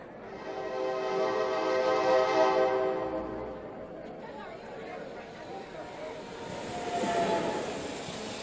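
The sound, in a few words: S-Bahn commuter train approaching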